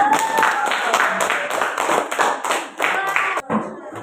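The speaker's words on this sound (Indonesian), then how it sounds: "Beri tepuk tangan untuk Anissa" A classroom of students claps for a classmate during a lesson, a brisk patter of many hands over about four seconds with voices talking underneath.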